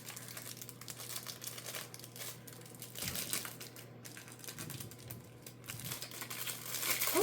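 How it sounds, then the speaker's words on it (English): Crinkly plastic wrapping around a small suede notebook gift crackles and rustles up close as it is opened, in bursts of crisp crinkling over a quiet room hum. "Sorry about the crinkly plastic"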